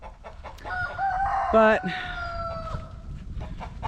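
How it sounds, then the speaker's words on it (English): A mother hen clucks and a rooster crows nearby, with harmonic bird calls rising over faint farmyard background and a brief spoken word. "And here we have a chicken mom."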